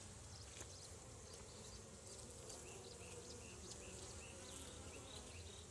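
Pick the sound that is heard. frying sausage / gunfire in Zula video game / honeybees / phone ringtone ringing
honeybees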